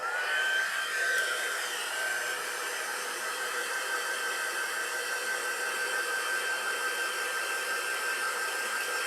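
A hair dryer blows steadily to dry freshly applied paint on an Easter basket insert craft, a continuous even whoosh with a faint high whine running close and alone throughout.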